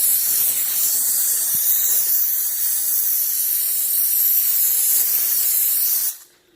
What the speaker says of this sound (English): I also have a face shield as well as a N95 mask, so I make sure I steam those out well.